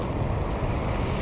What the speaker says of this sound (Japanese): ほらすっげえ波も。